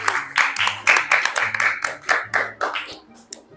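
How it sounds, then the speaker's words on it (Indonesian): A classroom of students claps for a presenting group: loud, close handclaps in rhythmic bursts, roughly a dozen distinct claps in a steady beat that slows and thins out at the end. "tepuk tangan dulu untuk kelompok 2."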